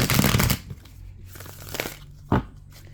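Tarot cards are shuffled in quick riffling bursts, a loud papery flutter at the start followed by softer shuffles and a short sharp snap near the end, close and with no talking.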